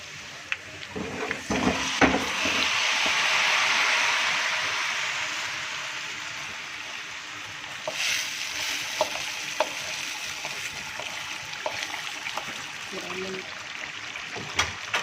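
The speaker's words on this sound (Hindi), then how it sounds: "और ये जो चिकन गल रही थी इसमें मैं ये डाल दूँगी प्याज" Sliced onions tossed into a pot of simmering chicken for dum biryani, sizzling in a steady hiss that swells then settles, with clinks of utensils and a voice nearby.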